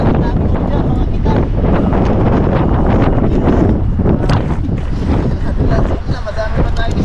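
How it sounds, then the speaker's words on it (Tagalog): Strong wind buffets a fishing boat out on the water, a loud, continuous roar and rumble of gusts hitting the microphone, with voices talking faintly underneath. "Tapos mahangin."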